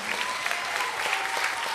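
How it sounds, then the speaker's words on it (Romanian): Theater audience applauding at a roast show at Teatrul George Ciprian, a brief, steady wash of many hands clapping. "Și încă un rând de aplauze pentru bandul Arată Artă"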